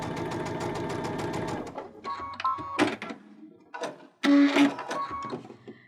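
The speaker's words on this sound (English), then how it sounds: "Just kind of sew just a little bit here to show you." Baby Lock Unity sewing machine stitching pintucks into solid quilting-weight fabric: a steady, close motor whir with rapid needle ticking for almost two seconds, then short clicks, stops and brief bursts of stitching.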